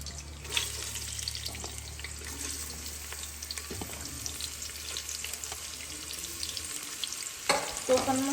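Onion frying in hot oil with spices already added, a steady close sizzle with occasional stirring scrapes, and a brief louder clatter near the end.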